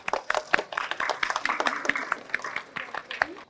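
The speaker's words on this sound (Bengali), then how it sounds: "হাততালি হবে ওর জন্য।" A group claps for the second-place winner of a math race game at a children's event, with scattered uneven hand claps and voices mixed in throughout.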